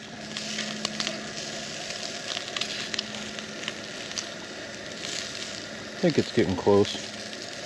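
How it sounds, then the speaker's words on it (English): Sausage frying in a pan on a Coleman camp stove outdoors, a steady close sizzle and crackle running throughout, with someone speaking briefly over it and some clattering near the end. "Come on, sausage, cook."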